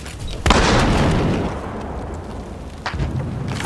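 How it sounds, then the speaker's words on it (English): An incendiary grenade goes off in Battlefield Hardline with a loud, close blast that swells into a sustained roaring burn, followed by a second, softer burst near the end. "Throwing incendiary!"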